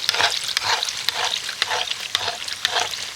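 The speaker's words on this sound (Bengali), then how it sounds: "ভাজার সময় তেলটাকে একটু নাড়িয়ে নাড়িয়ে এইভাবে ভেজে নিতে হবে" Khaja pastries deep-frying in hot oil, a steady bubbling sizzle broken by repeated stirring scrapes at a regular pace, close and fairly loud, with no voices.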